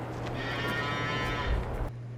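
Cows mooing in a barn in Farming Simulator 22, one drawn-out low moo lasting over a second, close and clear over a steady barn hum.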